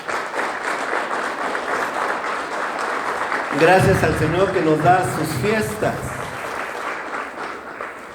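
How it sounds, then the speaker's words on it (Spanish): A church congregation applauds in a continuous burst of clapping while someone speaks over it, and voices rise in the middle before the clapping fades. "¿Por qué no das otro aplauso al Señor?"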